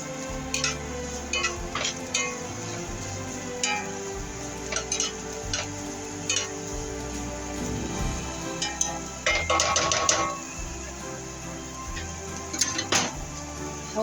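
Onions and garlic sautéing in a pan, a soft continuous sizzle close by, punctuated by scattered clicks and scrapes from a utensil stirring against the pan, busiest around the ten-second mark.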